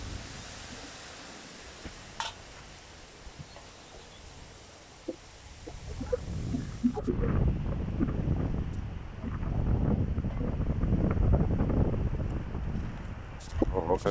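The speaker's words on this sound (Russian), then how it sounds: "Это ветер." Gusty wind rushing and buffeting the microphone, growing louder partway through, with faint rustling and a few brief clicks.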